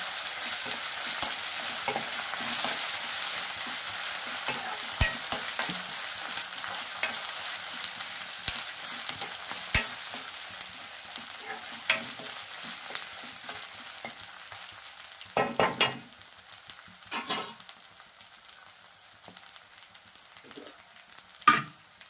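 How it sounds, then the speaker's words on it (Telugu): Ginger garlic paste frying in a pan, with a steady sizzle broken by scraping and stirring clicks that grow busier toward the end. "అల్లం వెల్లుల్లి పేస్ట్ పచ్చివాసన పోయిన దాకా వేసుకోండి బాగా"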